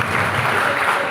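Audience at a Hindi poetry recital breaking into loud applause for a poet: a brief burst of dense, steady clapping from a close crowd, without speech.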